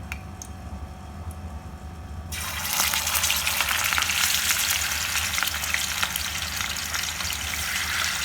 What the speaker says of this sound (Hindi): अब हम इसमें फ़िश डालते हैं।